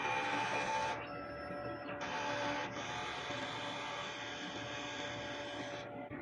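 Inkjet printer running a head cleaning cycle, a loud steady mechanical whir broken by short pauses and shifts in pitch, with motor and pump noise carrying on throughout and no talking.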